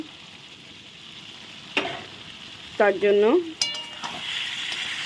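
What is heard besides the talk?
food being sautéed and stirred in a pan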